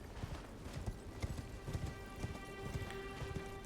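Horse hooves clip-clop in a steady galloping rhythm in Elden Ring, moderately close, with a light rain-like hiss and a faint sustained tone behind the hoofbeats.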